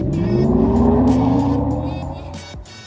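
A 2022 Hummer EV SUV accelerating hard, with a loud, close electric whine that climbs and then fades away, mixed with road and tire rush.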